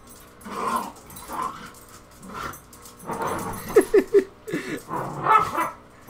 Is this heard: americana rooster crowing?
no